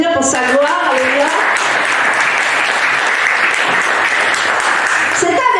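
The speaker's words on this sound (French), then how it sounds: "Est-ce qu'on peut l'applaudir pour sa gloire?" A church congregation bursts into loud, sustained applause at a diploma ceremony, dense clapping filling the room for several seconds while a voice briefly speaks or sings at the start and end.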